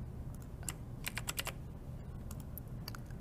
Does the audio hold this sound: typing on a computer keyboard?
yes